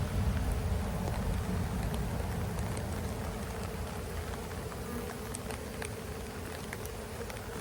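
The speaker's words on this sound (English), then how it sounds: "Come on, bees, let's go." A swarm of honeybees being removed from a section of power pole hums steadily and densely, close and continuous, with faint patter of rain in the background.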